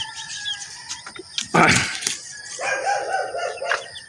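A dog barks a few times at moderate distance, sharp bursts separated by pauses, over faint background noise.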